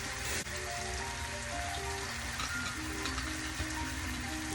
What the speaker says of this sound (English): So I'm definitely gonna rinse this out and use it.